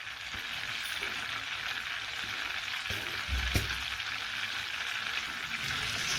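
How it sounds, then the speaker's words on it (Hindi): Butter heating in a pan for sarson ka saag sizzles in a steady, close, hissing frying noise, with a few soft clinks and a bump partway through and no talking. "अब बटर को हम अच्छी तरह से गर्म होने देंगे।"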